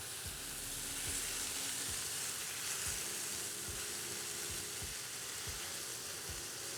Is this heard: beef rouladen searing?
yes